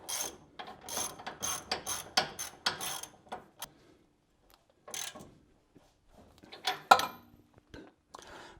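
A hand ratchet clicks in quick bursts while tightening the nut on a billet aluminum upper control arm during a suspension install, with short pauses between strokes and a few metallic taps, fairly quiet and close.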